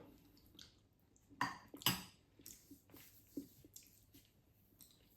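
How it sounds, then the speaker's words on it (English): A spoon mixes baked beans and tomato together in a ready meal tray, giving a few brief squelchy stirs and light scrapes against the container, quiet and close, with soft clinks and pauses between. "Let's go beans and tomato together. We'll just mix it up."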